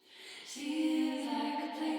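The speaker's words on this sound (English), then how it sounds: "So the reverb channel itself sounds like this." Washed-out, fully reverberant vocal harmonies swell in and hang as a sustained, smeared chord, with no dry voice audible.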